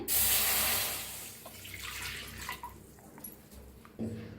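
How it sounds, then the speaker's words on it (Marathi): About one and a half glasses of water poured into a hot pan splashes and hisses loudly at first, then settles into a quieter trickling pour, with a brief clatter near the end. "त्याच्यात वतूया आपण पाणी"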